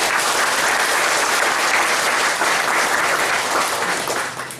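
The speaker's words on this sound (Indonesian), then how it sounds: "Kita tepuk tangan dulu untuk Tuhan Yesus." A church congregation claps loudly and steadily in unison for several seconds, a dense wash of applause that tapers slightly at the end, with no talking over it.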